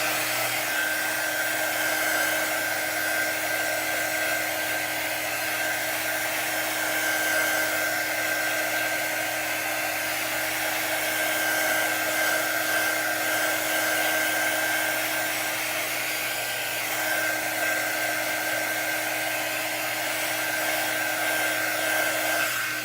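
A hair dryer blows on a chalk-decorated holiday tray, making a steady loud whirring hum with a thin high whine that runs unbroken and close throughout, with no talking.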